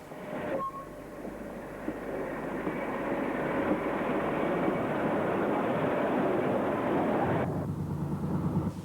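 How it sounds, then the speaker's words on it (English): A track recording train rolls through Birmingham's Snow Hill station with a steady, broad rumbling roar that swells in and holds for several seconds before cutting away, heard at moderate distance. "this track recording machine was filmed as it passed through Birmingham's Snow Hill station"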